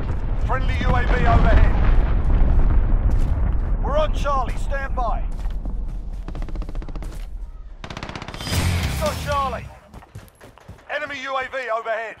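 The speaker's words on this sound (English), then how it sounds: "Enemy cruise missile incoming, take cover." Loud Call of Duty Modern Warfare battle din with rumbling explosions and bursts of gunfire, mixed with automated announcer voice callouts about incoming missiles, a sharp blast rising near the end.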